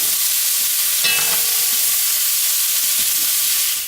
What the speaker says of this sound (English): We are just searing it to trap that flavor inside